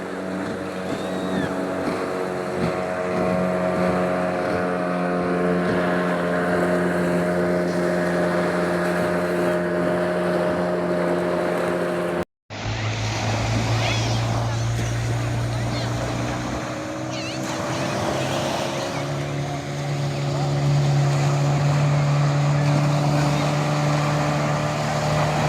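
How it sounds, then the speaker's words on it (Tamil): A motorboat passes by at a beach, its steady engine drone holding throughout with a brief cut midway, then a lower-pitched motor tone taking over, close and fairly loud. "பாருங்க ஒரு போட் அப்படி வருதாண்டு பாருங்க."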